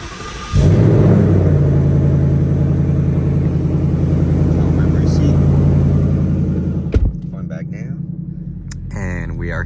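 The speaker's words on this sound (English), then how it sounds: "Cold start." A Ford Mustang S550 engine cold-starts with a sharp burst, then settles into a loud, steady, deep rumbling idle that drops suddenly near the end, leaving a lower hum while a voice speaks.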